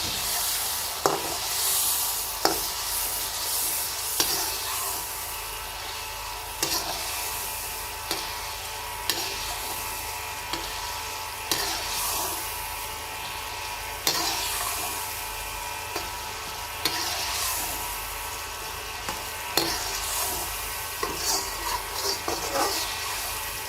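Spices for aloo pulao fry in a pan with a steady broad sizzling hiss, while sharp scraping clicks from stirring recur every second or two throughout.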